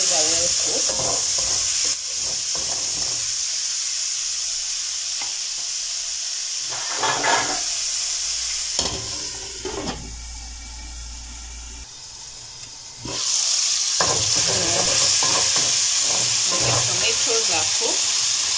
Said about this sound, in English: Let them simmer for around a minute until the tomatoes are well cooked.